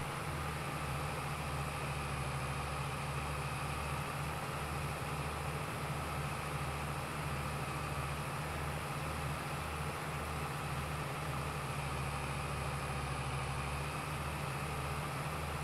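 An old tractor engine in Farming Simulator 22, on the Taheton County map, holds a steady, low, rumbling drone with no break, close and continuous under a constant hiss of wind or road noise.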